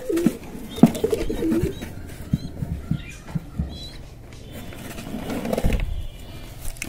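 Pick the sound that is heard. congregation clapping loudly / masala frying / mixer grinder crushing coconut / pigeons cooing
pigeons cooing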